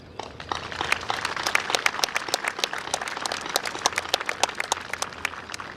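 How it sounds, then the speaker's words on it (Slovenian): Crowd applause for foreign guests at the opening ceremony of a military exercise, a dense, steady patter of many hands clapping at moderate volume for several seconds. "bi prosil za en aplavz za vse tuje goste"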